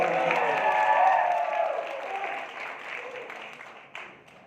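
An audience at a talk gives sustained applause that starts full and steady, then gradually thins and fades over a few seconds, with some crowd murmur underneath.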